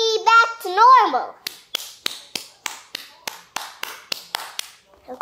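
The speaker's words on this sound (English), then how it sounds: "Quick, clap your hands" Hands clap in a steady rhythm of about a dozen crisp, close claps, after a child's playful sing-song voice opens the moment.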